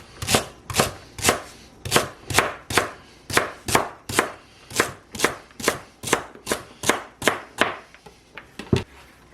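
Two celery stalks are sliced with a knife on a cutting board, about twenty crisp, evenly spaced chops in a steady rhythm, close and clear, slowing near the end.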